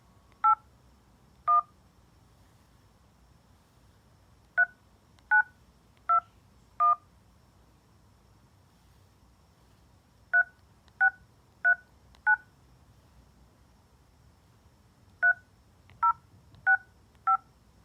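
Keypad tones from a phone punch in a 16-digit EBT card number, loud, crisp beeps in spaced groups of four with short pauses between groups over a faint hiss.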